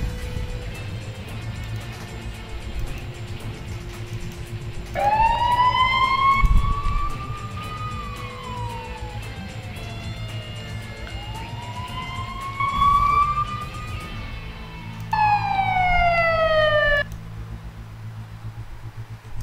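Ambulance siren in the Emergency 4 game with a Barcelona, Spain mod, loud rising and falling wails that switch to a fast yelp near the end, over low engine and traffic hum.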